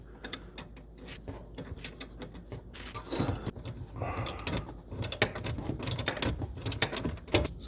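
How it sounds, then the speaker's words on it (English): A ratchet backs out the mounting screws on a GE Profile dishwasher, giving rapid clicking pawl bursts that come close and clear, in short repeated runs with handling noise between them. "We can ratchet them off here."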